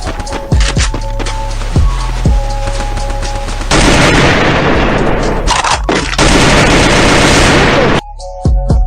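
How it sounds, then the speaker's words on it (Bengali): Video game gunfire rings out as an enemy takes a headshot: loud, close shots, single cracks early on giving way to dense sustained bursts, then an abrupt drop near the end. "এখানে একটা এনিমিকে আমি হেডশট দিয়ে মারছি"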